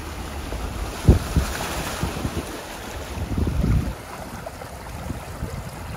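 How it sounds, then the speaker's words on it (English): Floodwater pours as a torrent off a wheat field onto a flooded farm track, a steady broadband rush with heavy wind buffeting the microphone and a few louder gusty bursts. "Look at the torrent coming off this field."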